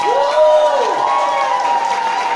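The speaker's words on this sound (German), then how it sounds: "Großen Applaus für Fabian am Ton!" Concert crowd at a homecoming show with a band applauds and cheers the sound engineer, a continuous wash of clapping under a rising whoop, loud and close.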